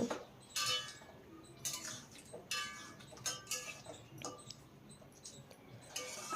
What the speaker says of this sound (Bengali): এখন খুব ভালো করে একবার মিশিয়ে নেব